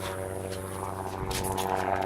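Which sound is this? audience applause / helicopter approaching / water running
helicopter approaching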